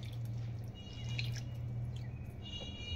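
Water drips and trickles steadily off soaked sabudana (tapioca pearls) as the washing water is poured away, a soft close liquid pattering with no talk.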